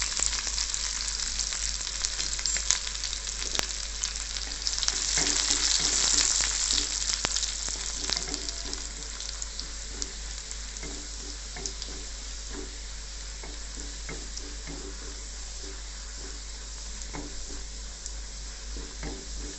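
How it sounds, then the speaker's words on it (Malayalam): Onions and dried red chillies frying in oil for a yam curry give a loud, steady sizzle that holds throughout, with faint stirring scrapes and no voices. "നമുക്ക് ഉള്ളി ഇട്ട് കൊടുക്കാം, വറ്റൽ മുളക് ഇട്ട് കൊടുക്കാം."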